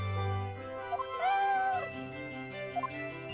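A cat named Eve meows in Professor Layton vs Phoenix Wright: Ace Attorney, a short rising-and-falling cry near the middle with a couple of brief chirps, over a low steady music drone.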